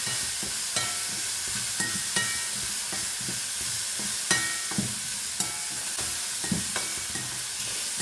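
Ridge gourd with a half teaspoon of turmeric is stirred in a frying pan, a steady sizzle broken by repeated scraping strokes of the spoon at an uneven rhythm, close and moderately loud.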